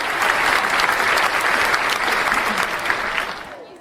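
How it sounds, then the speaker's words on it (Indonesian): Sustained audience applause from a crowd at a school drama event for class 9C, dense and steady throughout, fading slightly near the end, with faint voices mixed in. "minta tepuk tangannya dong"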